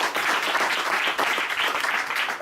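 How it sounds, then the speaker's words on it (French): Conference audience applauding a speaker, a dense burst of clapping that fills the room evenly for a couple of seconds. "je propose qu'on applaudisse notre intervenant"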